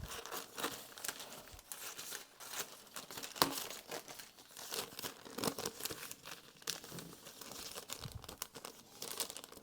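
A plastic bag being handled and cut for a bookbinding project, close irregular crinkling and rustling throughout with a sharp snip partway through, fairly quiet.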